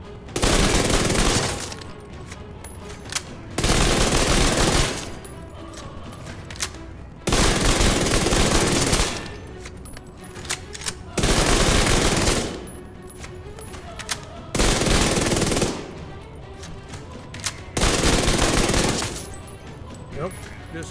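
Vector submachine gun from The Division 2 fires in sustained bursts of about two seconds each, six bursts with short pauses between, loud and close, with no talking.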